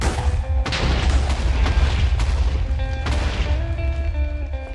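A deep, heavy boom goes off in Minecraft, followed by rumbling debris and a few sharp cracks and thuds, loud and close.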